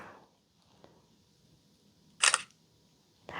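A camera shutter fires with a sharp mechanical click in a quiet room, followed by the start of a second click at the end.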